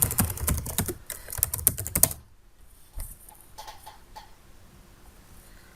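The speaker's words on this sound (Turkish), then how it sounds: "Username password'umuzu yazıp login tuşuna basalım arkadaşlar." Quick keystrokes on a computer keyboard while entering a username and password, a dense burst of clicks for about two seconds, then a pause and a few sparse, softer taps.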